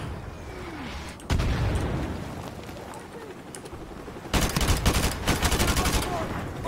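Gunfire in the video game Call of Duty: Modern Warfare Remastered, a sharp blast followed by scattered shots and then a loud, rapid burst of sustained automatic fire toward the end.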